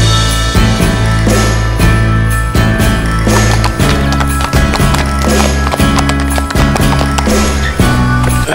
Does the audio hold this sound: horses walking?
yes